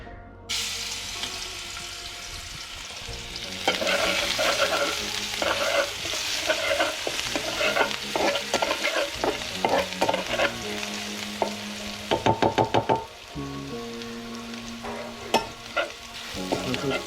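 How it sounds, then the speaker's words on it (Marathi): Crushed garlic and green chili thecha hits hot oil with a loud, continuous sizzle, accompanied by scraping stirs and clattering utensil knocks against the pan throughout. "आता आपण जी ठेचा बनवला आहे लसूण आणि मिरचीचा त्याच्यात टाकणार आपण"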